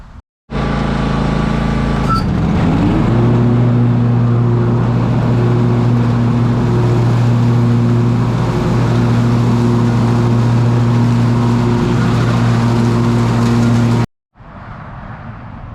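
A lawn mower engine runs while mowing leaves, a loud, steady close drone that rises in pitch a couple of seconds in, holds evenly for about twelve seconds, then cuts off abruptly.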